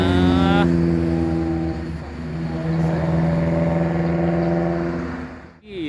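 An Epa Star intercity bus bound for Palembang passes close by on a road, its engine a loud, steady droning rumble that holds throughout and drops away abruptly at the end.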